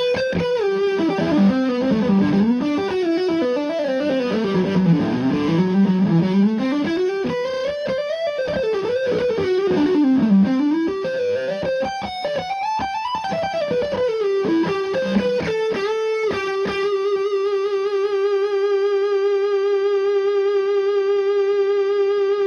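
Electric guitar played through the distortion channel of an Orange Dual Terror amp, a fluid overdriven melodic line with bends and runs that ends on a long sustained held note, loud and close with no talking.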